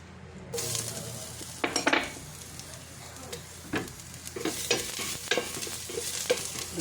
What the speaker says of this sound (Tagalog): Lagay na natin ang ating luya.